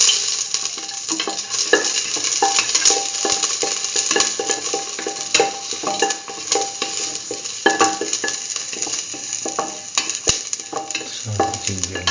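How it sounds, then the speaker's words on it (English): Ginger and garlic fry and get stirred in a pan for mustard okra rice, a steady close crackle with scraping strokes of the spoon throughout, no voices. "put in the garlic"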